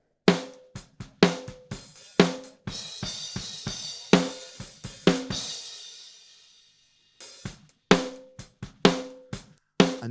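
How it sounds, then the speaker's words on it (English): Raw recorded snare drum with no EQ or gate, sharp hits in an irregular pattern with ringing tails and room bleed, plus a long decaying cymbal-like wash in the middle, close and alone. "let's hear the snare drum as it was recorded without the EQ and the gate"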